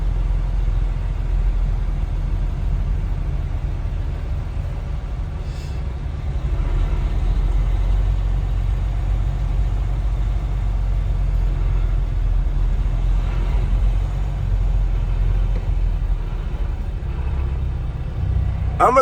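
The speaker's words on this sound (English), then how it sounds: "This traffic ridiculous." A car idles in slow highway traffic on I-696, a steady low engine rumble with road noise holding at an even level throughout, with no talk.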